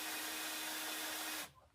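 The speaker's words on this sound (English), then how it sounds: "I do have the drill set on a pretty low speed. And you can hear sometimes, you'll be able to hear it cutting." Low-speed drill with a grinding bit working the intake ports of a 1986 Mustang GT cylinder head, a steady broadband whir and rasp held close and loud for over a second before cutting off abruptly.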